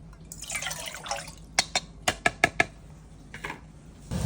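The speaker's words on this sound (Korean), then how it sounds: "이대로 냄비에 붓고 끓인다." Water splashes into a cooking pot for instant yukgaejang ramen, a brief pour followed by several sharp drips and trickles, close and fairly quiet against a faint background hum.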